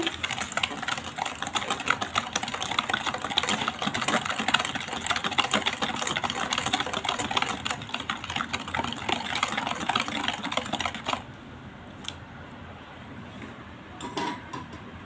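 An egg is beaten by hand with a whisk for a palm-fruit kon pitha batter, making rapid, steady clicking and scraping strokes up close that run continuously, then stop abruptly near the end, leaving a quiet pause with a few faint knocks.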